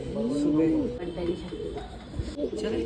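Domestic pigeons kept at a home loft coo in soft, repeated rolling phrases close by, with someone talking over them throughout.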